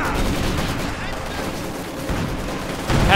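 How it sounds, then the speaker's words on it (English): Field gun barrage in Company of Heroes 2: a dense, continuous rumble of overlapping artillery and gunfire booms, steady and loud throughout, swelling slightly near the end, with battle noise blended together. "Nice barrage there from the field gun."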